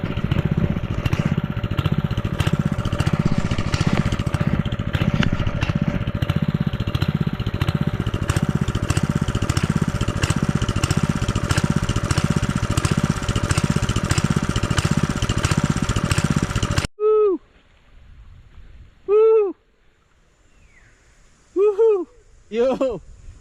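A small engine-powered fertilizer-spreading machine runs close and loud with a steady, pulsing chug for about seventeen seconds, then cuts off abruptly, leaving only a few short, sparse sounds in near silence.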